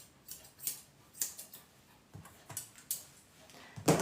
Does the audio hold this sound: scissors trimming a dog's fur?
yes